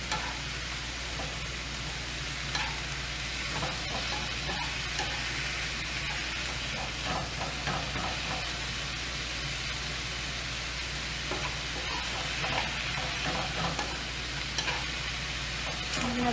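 Chicken pieces and cumin seeds browning over high heat in a pan give a steady, close sizzle and crackle that runs unbroken throughout, with occasional stirring clatter and no voices.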